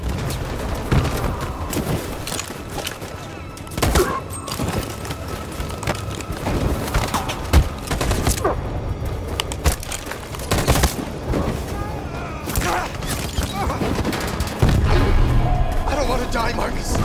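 Video game gunfire in Detroit: Become Human, dense bursts of shots and booms over a rumbling battle bed, with people talking over it.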